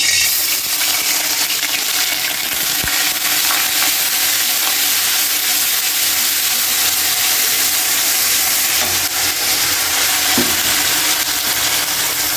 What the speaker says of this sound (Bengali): তো এটাকে ভালোভাবে ভেজে নেব।